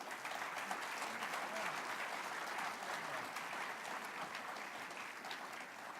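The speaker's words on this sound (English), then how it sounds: "Let's give them a big round of applause." A crowd applauds steadily, a dense wash of clapping heard from a slight distance, holding an even level throughout.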